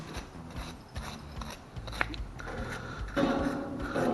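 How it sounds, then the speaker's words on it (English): A wire brush scrubs the tip of an oxy-acetylene torch, giving brief scratchy rasping strokes close up, with faint mechanical rattles between them and a busier scrubbing burst near the end. "I like to just take a wire brush. Just give it a quick little brush off there."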